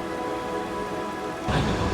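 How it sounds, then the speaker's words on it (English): Heavy spray and mist from Victoria Falls fall as a dense, steady hiss. The rush swells louder and rougher near the end. "Spray is very high here. And we are being rained on quite significantly."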